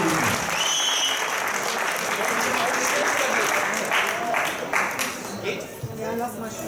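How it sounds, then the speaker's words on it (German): Applause fills a German youth, junior and masters bodybuilding championship, a dense, loud wash of clapping that runs nearly seven seconds before tapering off, with an announcer talking over it. "Deswegen auch nochmal ein richtiger Applaus."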